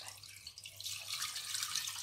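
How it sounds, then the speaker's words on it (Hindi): Water poured into a cooking pot for mutton yakhni pulao, about a litre, a close hissing splash that grows fuller and brighter as the stream continues, heard alone and fairly quiet. "और इसमें पानी डालते हैं।"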